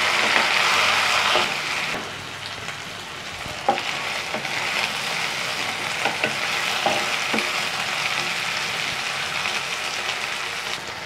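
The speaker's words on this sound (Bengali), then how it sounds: "টমেটোটা আবার একটু ভালোভাবে ফ্রাই করে নেব।" Tomatoes fry with onion and ginger-garlic paste in a pan for chicken liver kosa, a continuous close sizzle with occasional stirring clicks and spatters throughout.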